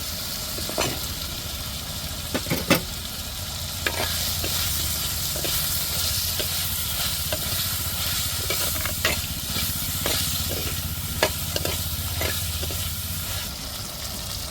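Potatoes stirred into a sizzling egg curry in a hot pan: a steady hiss of frying oil runs throughout, broken by repeated scraping clinks of a spoon against the pan.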